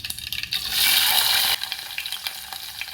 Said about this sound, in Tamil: 2 சோம்பு தாளிச்சிக்கலாம், கடுகு, சின்ன வெங்காயம்,